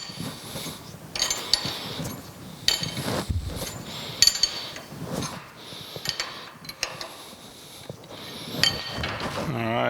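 Ratcheting clicks and metallic clinks of bolts being tightened on the belt shifter linkage of a New Haven metal planer under restoration, arriving in short irregular bursts at close range with scattered knocks of tools on metal.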